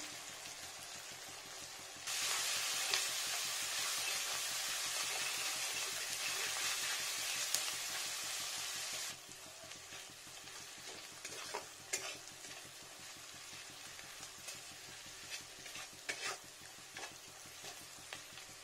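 Garlic paste and slit green chillies frying in oil in a pan, a loud steady sizzle that swells sharply, then settles into quieter crackling with scattered ticks and stirring scrapes, no talk.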